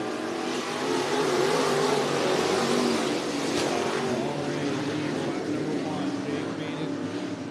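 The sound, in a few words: dirt track race cars in heat race at speedway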